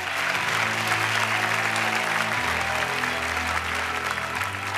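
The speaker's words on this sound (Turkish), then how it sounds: "Önce ona kocaman bir alkış." Studio audience applause on a Turkish television game show, a dense, steady wash of clapping throughout with a low musical tone sustained underneath.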